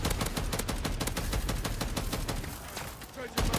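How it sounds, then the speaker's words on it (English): A turret in the video game MW3 Zombies fires a fast, continuous burst of automatic gunfire that stays loud and steady, then stops sharply, with people talking underneath. "Oh, the turret's gone off."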